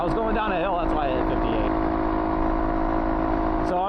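A Honda Monkey motorcycle with its stock exhaust runs at a steady, quiet cruise near top speed, a constant engine drone under continuous wind rush, with someone talking over it at the start.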